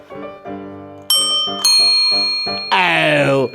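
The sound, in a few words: bicycle bells ringing in a bike shop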